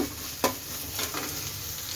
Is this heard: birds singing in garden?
no